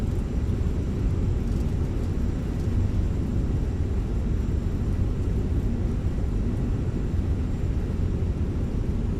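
A Delta A319 airliner slows on its landing rollout with spoilers out and reverse thrust applied, a steady broad roar and rumble that holds evenly for several seconds with no voices.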